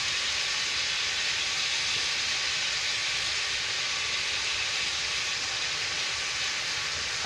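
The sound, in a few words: ground beef cooking and noodles boiling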